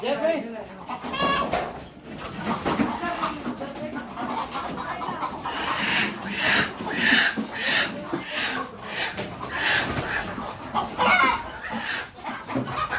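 Free-range village chickens cluck and call in a busy poultry farmyard, with a person talking steadily over the birds throughout.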